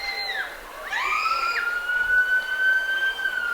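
A Harriman Police Department car sounds its siren at a Christmas parade, rising and falling wails heard from a moderate distance over open outdoor crowd noise.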